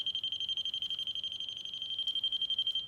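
Electrical wiring tester sounding a steady run of rapid, high-pitched beeps, close and clear, confirming current reaching a branch line of a wiring circuit.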